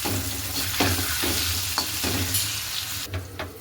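Potatoes sizzle and crackle steadily in hot oil in a covered wok, with occasional light scrapes of a utensil against the pan.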